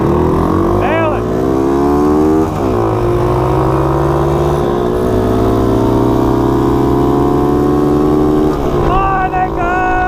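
Honda CT70 mini bikes fitted with 140cc swapped engines rev up and ride off together, a loud continuous buzzing drone with rising and falling pitch as throttles open, while a voice talks over the engines.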